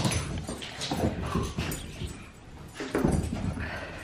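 Excited pet dogs whimper and yip indoors, with high, breathy whines and short cries coming in bursts over rustling and movement noise, close and fairly loud.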